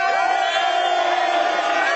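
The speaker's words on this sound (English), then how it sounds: "They're booing me." Studio audience at a live sports talk show booing a fight pick, a dense, steady crowd roar of jeers filling the whole moment, loud and continuous with no speech over it.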